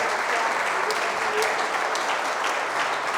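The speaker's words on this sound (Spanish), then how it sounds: "este aplauso es para ti" Steady, dense applause from a crowd fills the whole stretch, with voices faintly mixed in beneath the clapping.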